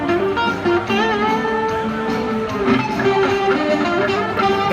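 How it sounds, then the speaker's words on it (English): Electric guitar runs through a software delay effect, its sustained notes trailing into repeating echoes that blend into a dense, steady wash of tone at constant volume. "That's a delayed sound you can hear."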